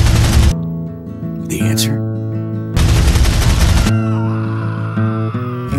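Heavy bursts of gunfire from a Doom-style first-person shooter come in loud, booming blasts separated by short gaps. Someone speaks over the action.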